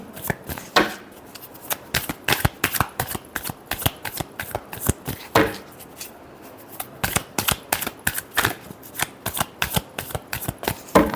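Tarot cards being shuffled by hand, a long run of crisp, rapid riffles and snaps that come in quick, uneven bursts, close and fairly loud, with no talking over them.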